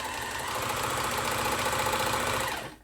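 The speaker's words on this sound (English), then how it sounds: "And yep, sewing machines sounding good." A Janome Combi 2-in-1 sewing machine and serger, just freed from seizing, runs at a steady pace. It gives a continuous, close mechanical whirr with a fast, even rhythmic chatter and no pauses until it winds down at the end.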